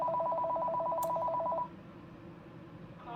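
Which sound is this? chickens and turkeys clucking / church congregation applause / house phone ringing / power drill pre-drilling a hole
house phone ringing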